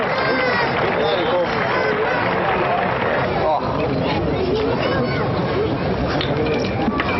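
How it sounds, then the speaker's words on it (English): A polo crowd cheers the La Espadaña team at an outdoor match, a broad, steady roar of voices and applause with a commentator talking over it throughout. "listen to that crowd as they cheer this La Espadaña team back to the Palenque"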